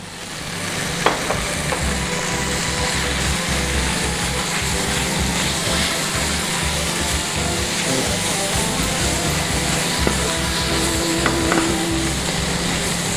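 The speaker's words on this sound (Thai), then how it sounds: "นำผักคะน้านะครับที่เราเตรียมไว้ล้างให้สะอาดนะครับหั่น ใส่ลงไปผัดนะครับ" A loud, steady sizzle of kale stir-frying in hot oil, with occasional clinks and scrapes of a utensil against the pan.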